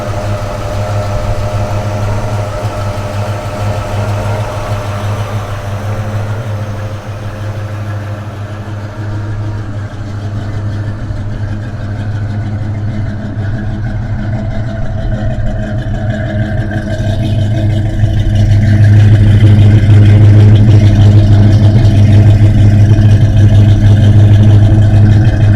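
A 1971 Chevrolet Nova SS350 with its 350 engine runs at a steady, throbbing idle close by, then swells louder and deeper under throttle near the end, with no talking.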